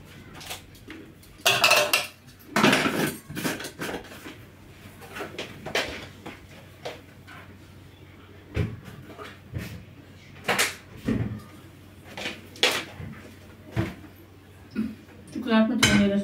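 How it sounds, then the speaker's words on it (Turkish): Pots, pans and cutlery clatter and clank in bursts, with cupboards knocking shut now and then, while a person talks quietly in between. "Kızartma tenceresini de yerine koyayım."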